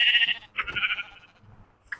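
A goat in a video game bleats a few times, short nasal cries that are close and fairly clear, with quiet gaps between.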